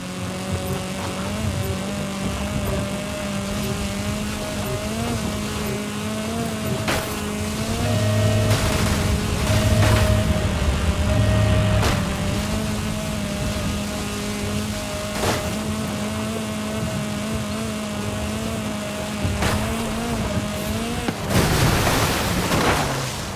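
A car driven in a racing video game near the pyramid strip at Teotihuacan, its engine humming steadily with shifting pitch and occasional sharp knocks and bumps, loud and continuous throughout.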